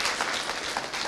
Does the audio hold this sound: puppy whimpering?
no